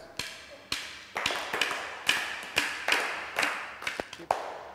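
A class claps hands together in a steady rhythm, a dozen or so sharp group claps at even intervals, fairly close and alone apart from faint murmuring.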